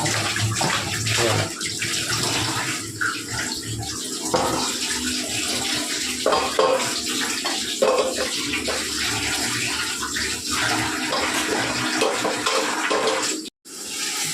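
Running water pours steadily from a tap while something is washed under it in a kitchen during cooking, with splashing and clattering throughout and someone talking faintly over it.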